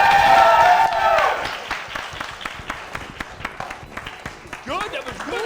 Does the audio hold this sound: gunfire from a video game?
no